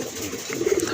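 Large pigeons at a market stall coo in low, throaty bursts that swell toward the end of the moment, close by amid a murmur of background noise.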